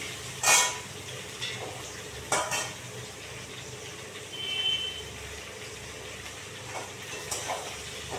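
Garlic, onion, taro stolons and green chili go into a pan together, bringing clinks of a utensil against metal and a few stirring scrapes over a low sizzle.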